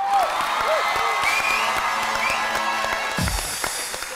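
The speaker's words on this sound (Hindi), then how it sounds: "कौन हो आप लोग अपने लिए तालियां बजाओ" A studio audience at a televised Pakistani talk show claps and cheers throughout, a steady crowd roar with whoops and shouts, with brief voices rising above it.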